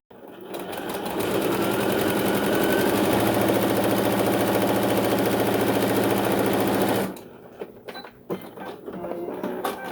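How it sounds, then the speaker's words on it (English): A sewing machine running a straight stitch in one continuous, loud, close burst of rapid mechanical whirring that stops abruptly, followed by faint handling clicks. "I'm going to do a straight stitch."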